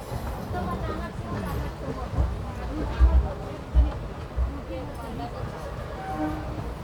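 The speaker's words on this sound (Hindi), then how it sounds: "फाइनली हमारा अराइवल हो रहा है नागपुर रेलवे स्टेशन में" Kolhapur–Nagpur Express rolling into Nagpur railway station, a low rumble of the moving train with a few deep thumps and a faint horn, while a voice talks over it.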